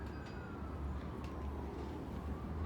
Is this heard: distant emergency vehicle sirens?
yes